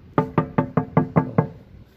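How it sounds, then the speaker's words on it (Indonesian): Knuckles rap seven times on the thin sheet-metal body of a Daihatsu Taft Rocky 4x4, producing evenly spaced, hollow, resonant knocks up close with no talking. "Jangan lupa kita ketok-ketok dulu. Nah, bodinya kaleng ya teman-teman."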